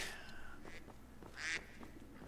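Mallard duck quacking in a Skyrim game mod: a raspy quack opens, then another louder quack follows a second later, near and distinct above a steady low in-game ambience.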